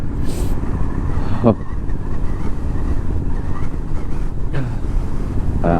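Strong wind buffets the microphone on the hilltop of Baba Budangiri, the highest peak in Karnataka, a loud continuous roar with brief gusting bursts.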